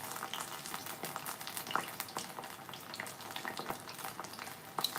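Conch fritters sizzle steadily in hot frying oil, a continuous close crackle with small pops scattered throughout and no voices.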